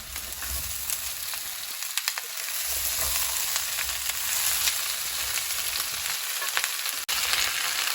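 Potatoes fried with onions, chillies, salt and paprika in a pan give off a steady, close crackling sizzle that runs throughout with only brief dips, and no voices are heard.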